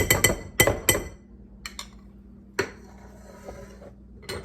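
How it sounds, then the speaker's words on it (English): A spoon clinks sharply against a glass bowl while pumpkin cake batter is mixed, several bright clustered strikes at first, then quieter scraping and one more clink and a final pair of taps. "You can just mix this with a spoon."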